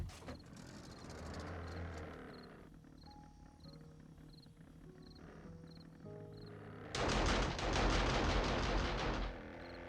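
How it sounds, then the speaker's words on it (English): Auto turrets firing in 7 Days to Die: rapid bursts of gunfire mixed with creature roars and growls, building to a dense, loud volley near the end, with no talk. "I'm just gonna let the auto turrets do their thing"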